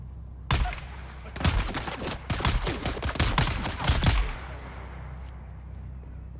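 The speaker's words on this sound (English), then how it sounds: "Nice shooting there, LG." Gunfire in the video game Dune Awakening, loud rapid bursts of shots fired close together over about four seconds against a steady low background hum, then tapering off.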